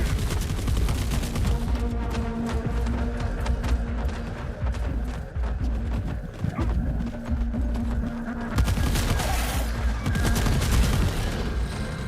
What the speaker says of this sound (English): I am really glad that machine gun is attracting enemy attention